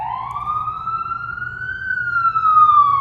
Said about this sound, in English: Don't mind the ambulance. They be at it all day, every day.